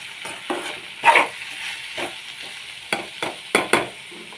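Food fries and gets stirred in a pan, a soft sizzle running under a handful of scraping stirring strokes and knocks, close and irregular.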